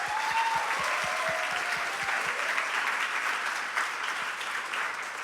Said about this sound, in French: encore une bonne main d'applaudissement